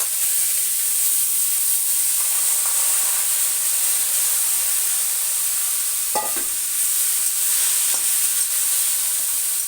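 Banana stem pieces dropped into hot oil with mustard seed tempering, frying with a steady loud sizzle and hiss throughout, plus brief stirring scrapes in the pan, no talking.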